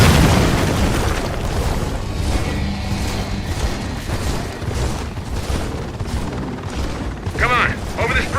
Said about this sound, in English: Launching an airstrike.